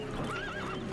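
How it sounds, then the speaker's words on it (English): A horse gives a short, wavering whinny over a steady background, fairly faint and brief, lasting about half a second. "Their horses became skittish."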